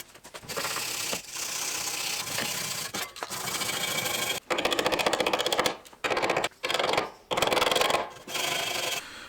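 Hand wire brush scraping metal in repeated loud, rasping strokes, working close up in bursts separated by short pauses, with no talking.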